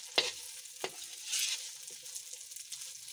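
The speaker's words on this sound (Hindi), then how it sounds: "तो अच्छी तरह मिक्स करते हैं।" Chicken samosa filling stirred in a hot pan, with a soft steady sizzle and a couple of sharp spoon scrapes against the metal near the start.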